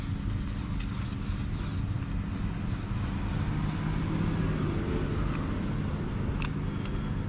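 A paint roller works paint onto the fiberglass hull of a 1967 Boston Whaler 17 ft boat, a steady soft hissing roll with repeated swishes, close and continuous.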